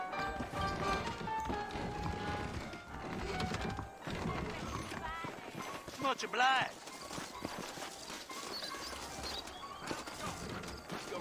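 Horse hooves clip-clop in Red Dead Redemption, a rhythmic trot of saddled horses heard under game dialogue and background score, with a brief whinny-like tone midway; someone speaks briefly.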